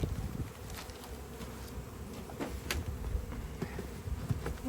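A dense, steady hum of many honeybees buzzing close by around hive frames, continuous throughout with a few faint clicks and knocks.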